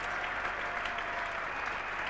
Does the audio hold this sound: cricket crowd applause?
yes